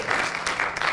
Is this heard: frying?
no